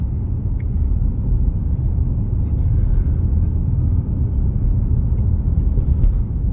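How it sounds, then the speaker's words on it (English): A car climbs Cemetery Hill in Bayfield, Wisconsin, its engine and road noise forming a steady, heavy low rumble that holds evenly throughout with no voices. "We're driving up Cemetery Hill here in Bayfield, Wisconsin."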